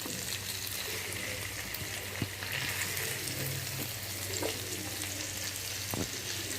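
Marinated fish pieces fry in oil for Andhra fish pulusu, a steady broadband sizzle throughout with a few soft ladle scrapes and taps as the pieces are gently turned.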